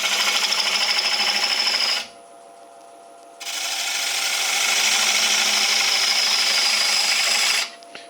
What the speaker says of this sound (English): I'm gonna go straight in with a bowl gouge.